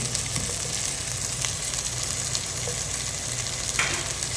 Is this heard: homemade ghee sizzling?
yes